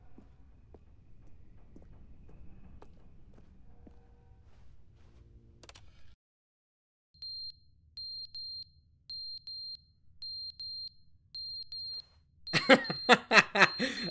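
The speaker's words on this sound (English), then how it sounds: "looks like the fire alarm battery is beeping" A fire alarm's low-battery warning in The Stanley Parable video game sounds as a series of short, thin electronic beeps in evenly spaced pairs over a quiet hum, after faint ambient noise and before a louder burst of other sound.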